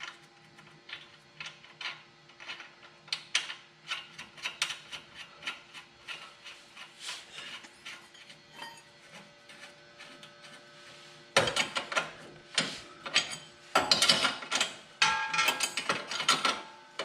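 A ratchet tightening the nut on a Toyota Corolla control arm ball joint, clicking in steady rapid runs close by, growing louder and denser in the later bursts.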